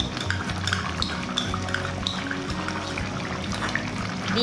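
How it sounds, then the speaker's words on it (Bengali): Spoon stirring tomato ketchup into butter chicken gravy in a pot, soft repeated scraping and clinks of metal against the pan, faint and close, with no talk. "দিয়ে ভালো করে মিশিয়ে নেব।"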